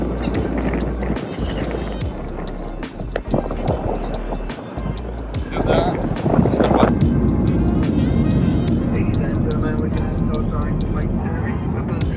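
Inside or beside a Ryanair passenger airplane at a Paris airport, a loud, steady aircraft engine roar rises and thickens partway through, with people talking throughout.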